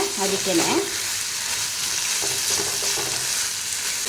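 Chicken gizzard fry sizzles in a pan as a spoon stirs it, a steady bright hiss with scraping strokes near the start and softer clinks afterward, no voices.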